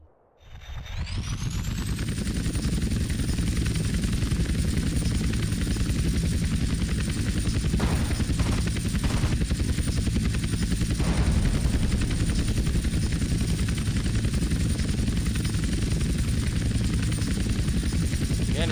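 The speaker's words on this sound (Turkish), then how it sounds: "Helikopteri kaldırıp indireceğiz mi?" A helicopter in GTA San Andreas Remastered spools up and then holds a loud, steady rotor roar with a whining engine tone, continuous and close for the whole stretch.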